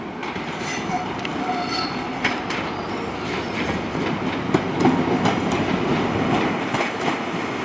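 The 0948 Great Western Railway service from Penzance to London Paddington, power car 43168, pulls out of Plymouth station with a loud, steady rumble, clattering wheels and occasional squeals close by.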